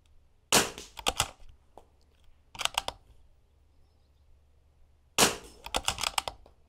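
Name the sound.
rifle shots in an NRL22 shooting stage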